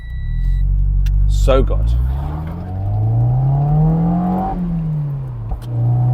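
Mazda MX-5 NC with an upgraded exhaust manifold revving hard and changing gear, engine note rising and falling loudly and close, with someone speaking briefly over it.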